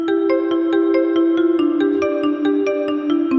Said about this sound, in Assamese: এতিয়া ফোনটো ৰিচিভ কৰোঁ নে নকৰোঁ